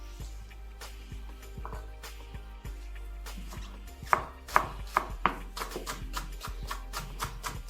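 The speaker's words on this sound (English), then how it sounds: "Green onions, we slice them crosswise." A knife slicing green onions crosswise on a cutting board for a Norwegian fish soup, starting with soft irregular cuts and moving into a run of sharper, evenly spaced chops, close and alone over a low hum.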